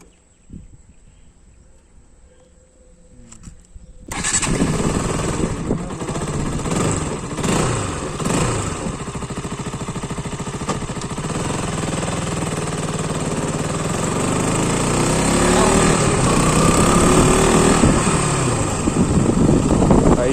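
A Honda RC200 motorcycle's engine starts after a few seconds of near silence, then settles into a steady, close running drone that builds gradually as the bike pulls away and rides on, with no talk over it.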